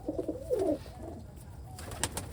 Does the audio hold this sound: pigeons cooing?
yes